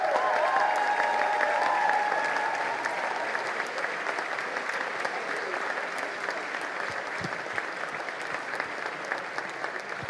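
An audience at a festive evening church congress applauds a contest winner, dense sustained clapping that starts loud and gradually thins and softens over about ten seconds.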